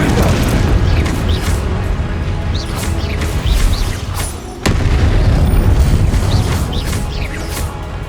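Repeated spell blasts from Confringo in the video game Hogwarts Legacy, booming bursts layered over a continuous loud wash of game sound, with a brief drop near the middle before the din returns.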